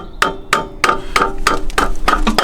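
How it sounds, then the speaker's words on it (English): Sharp hammer taps on a car starter motor being knocked into position, about eight evenly spaced metallic knocks, close and loud, with no talking. "I'm just going to give her a little love tap to Yeah, give her settle a little into tap. a new position."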